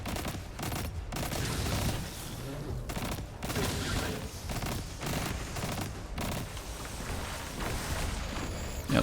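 Enemy rocket fire in the shooter game Destiny 2 during a solo Nightfall strike, with a dense run of explosive blasts and gunfire that continues loud and close without a break.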